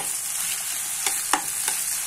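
Tomatoes go into a sizzling pan for Indian-style vegetable pasta, and a constant hiss of frying fills the pan. Three quick stirring scrapes or knocks land close together near the end.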